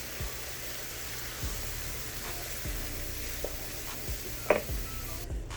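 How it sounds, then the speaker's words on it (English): Mexican spaghetti sauce sizzles softly in a pan with a low, steady hiss while it is stirred, with faint scrapes and taps from the spoon. "Now we're going to stir."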